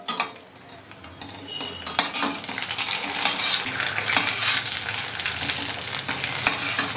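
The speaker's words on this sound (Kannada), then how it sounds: "ಸೊ ಈಗ ಒಂದೊಂದೇ ಪೂರಿಗಳನ್ನ ಹಾಕ್ಕೊಳ್ತಾ ಹೋಗ್ತೀನಿ." Masala puris dropped one at a time into hot oil in a pan, with a steady, close frying sizzle that builds in intensity, punctuated by sharp clinks and scrapes of a metal utensil against the pan.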